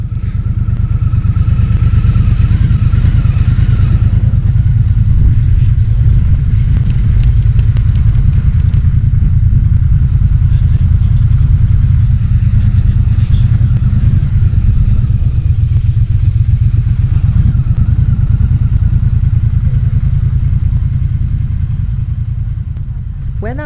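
A 2022 Triumph Bonneville Bobber, a British classic-style motorcycle, rides along with a loud, steady engine drone and rushing wind, continuous and close throughout with little variation.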